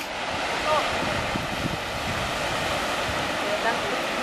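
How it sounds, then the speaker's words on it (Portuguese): Pacific Ocean surf rolling onto the shore at Isla Negra, Chile, a steady broadband wash of waves with wind rumble across the microphone, continuous and fairly loud throughout. "Aí está o Oceano Pacífico."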